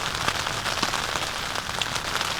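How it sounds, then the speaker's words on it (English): Steady rain pattering on a tent while wind pushes against the fabric, a dense, continuous hiss of drops close overhead with scattered louder taps and no voices. "It's raining."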